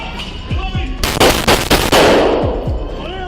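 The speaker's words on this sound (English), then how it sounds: "Instead of surrendering, she chose to open fire at them" Rapid bursts of gunfire ring out during a police shootout with an armed suspect, several loud close shots clustered together, with shouting around them.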